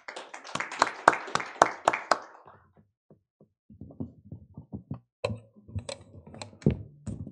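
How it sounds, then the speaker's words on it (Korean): A small audience at a Korean science policy panel forum claps for an introduced panelist. A burst of crisp, close claps fades into scattered, sparse claps and then picks up again briefly. "큰 박수 부탁드리겠습니다."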